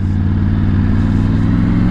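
Steady, loud rumble of a motorcycle engine while riding, either a Triumph Tiger 900 or a Yamaha Tracer 9 GT, with a rear exhaust note that sits between a triple and a twin, continuous and close with no voices.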